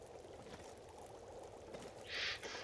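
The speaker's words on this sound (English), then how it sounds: "you can hear the tea's all bubbling away" Tea boiling on a stove in the survival game The Long Dark, a faint continuous bubbling and watery burble with a short louder hiss toward the end.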